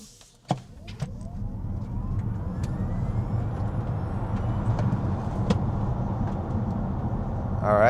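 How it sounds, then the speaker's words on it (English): A 2024 Kia EV6 GT electric SUV accelerates in sport mode, a rising whine over low road and tire rumble heard from inside the cabin, building steadily after a click, with no engine roar. "So let's just accelerate we'll go sport mode."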